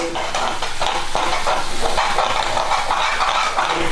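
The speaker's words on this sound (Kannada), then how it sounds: "ಎಲ್ಲ ಬೇಯಬೇಕದು ಸಣ್ಣ ಉರಿಯಲ್ಲಿ ಬೇಯಿಸಿ" Hibiscus, brahmi, durva grass and bilva leaves cooking in oil over a low flame for a hair-care oil: a continuous, close sizzle with repeated scraping from stirring in the pan.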